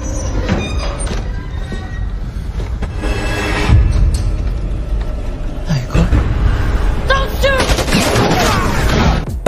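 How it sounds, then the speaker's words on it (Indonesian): Gunfire in a film scene where a ship crewman shoots at a man turning into a vampire, sharp bursts over a dense, loud rumbling soundtrack. "ABK itu memanggil temannya dan menembak Michael yang berubah menjadi vampir"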